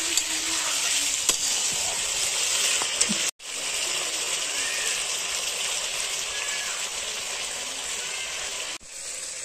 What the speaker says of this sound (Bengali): তো দেখো এখানে মাংস আমি সাতলাইয়া রাখছি